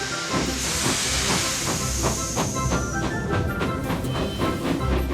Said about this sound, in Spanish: Pero esta locomotora está lista para partir.